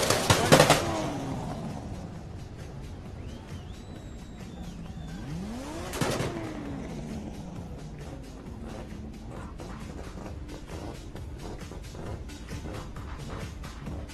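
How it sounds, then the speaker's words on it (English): A drift car at a Red Bull Car Park Drift event in Muscat revs and roars at a distance, with bursts of engine noise, passing swells, and crowd and announcer noise around it. "There is some major noise coming off this car tonight."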